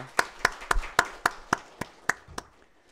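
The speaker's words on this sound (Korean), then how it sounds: "박수로 감사를 표하겠습니다" In a Sunday church service, a congregation claps in thanks to the preacher: about nine crisp, evenly spaced claps in a steady rhythm, fairly faint and fading away at the end.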